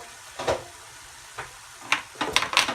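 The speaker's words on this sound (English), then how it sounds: "Give that a stir through." Browned meat with taco seasoning is stirred in a pan, a soft sizzle under a few scraping strokes of a utensil against the pan, close and fairly quiet, with no talking.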